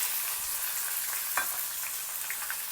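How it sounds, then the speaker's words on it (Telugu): Mustard seeds, urad dal and chopped green chilies fry in hot oil, a close, steady sizzle with scattered crackles and one sharper pop partway through. "ఆవాలు చిట్టుపట్లాడి మినపప్పు వేగుతూ ఉన్నప్పుడు మనం తరిగి ఉంచుకున్న పచ్చిమిరపకాయ ముక్కలు వేయాలి."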